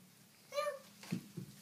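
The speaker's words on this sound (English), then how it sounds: "Yep, the kitty cat says meow." A cat gives one short, fairly faint meow at close range, followed by a couple of soft low thumps in a quiet room.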